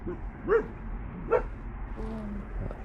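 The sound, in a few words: dogs barking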